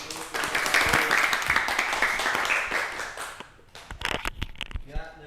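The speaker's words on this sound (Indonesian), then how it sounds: "Ya, berikan tepuk tangan." A classroom group claps together in a lively burst of applause that swells then tapers after about three seconds into scattered claps and a few voices murmuring nearby.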